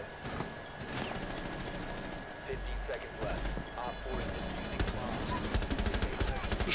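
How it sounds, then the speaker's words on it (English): Rapid gunfire bursts in a first-person video game crackle steadily under loud, excited players' voice chat, with sharp shots scattered throughout. "Oh fuck, Jake, shoot him"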